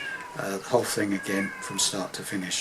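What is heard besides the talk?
cat meowing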